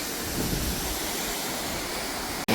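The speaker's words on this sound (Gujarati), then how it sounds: "મસ્ત મજાના ધોધ અહીંયા પડી રહ્યા છે" A waterfall at Galdhara Khodiyar pours water in a steady, loud broadband rush, close by and continuous, ending with a brief handling bump.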